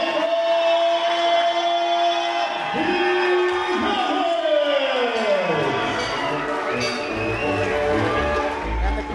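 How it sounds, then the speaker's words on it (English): At a professional boxing night, the arena crowd roars after a first-round knockout, with loud sustained cheering, whoops and shouts, and an announcer's voice carrying over the noise. "the crowd reacted to the win by Sergio Jimenez"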